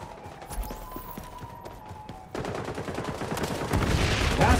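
Light machine gun fire in the shooter game XDefiant, rapid bursts of automatic shots rattling loud and close, growing denser and louder in the second half.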